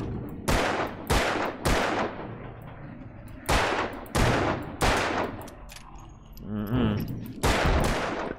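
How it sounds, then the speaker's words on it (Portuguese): Gunshots ring out in Alan Wake, loud and close: about eight sharp reports fired in irregular bursts of one or two, each with a short ringing tail, against quiet ambience. "eu tenho que atirar ali mesmo"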